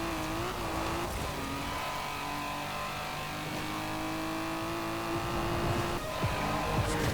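A 1979 Triumph TR7 Roadster in Forza Horizon 4 drifts through corners off-road, its engine note rising and falling steadily with tyre noise, loud and continuous with no talk.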